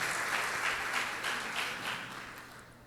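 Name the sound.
church congregation applauding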